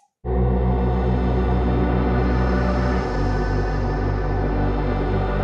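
A dense, sustained wash of reverb-processed vocal texture for a liquid drum and bass track, loud and continuous, with a steady drone underneath and a slight shift midway.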